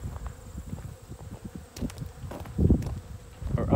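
Honeybees droning near hillside hives, a low buzzing hum mixed with rustling and scattered footstep-like crunches, swelling louder toward the end, with no voices.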